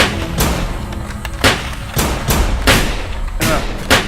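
Gunshots in a first-person horror film, several sharp broadband bangs spaced unevenly over a few seconds, loud and close, over a dark rumbling background.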